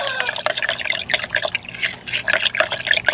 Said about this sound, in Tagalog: So dagdagan ko na lang tong tubig na to